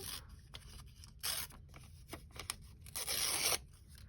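Paper being ripped by hand for a junk journal, a few short tearing rasps with a longer, louder tear near the end, close up against a quiet room with no talking.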